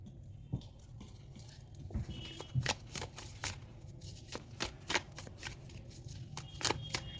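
Tarot cards shuffled and drawn by hand for a reading, giving a run of crisp riffling snaps and slides close to the microphone with no talk over them.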